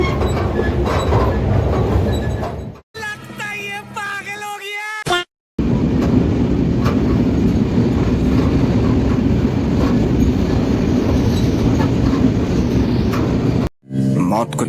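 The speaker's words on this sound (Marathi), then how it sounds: "ट्रेन गेलं." A train passing close by, a loud continuous rumble with rattling wheels. It is broken by a short stretch of voices and squealing, and by brief dropouts.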